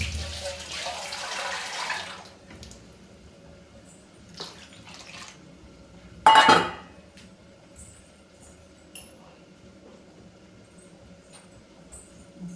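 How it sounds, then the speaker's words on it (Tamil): Water poured into a pot of ground lentils while cooking a home lunch, a splashing pour for about two seconds, then quiet kitchen sounds with a brief sharp clatter midway. "தண்ணி வேணுங்கிற அளவுக்கு ஊற்றிக்கலாம்."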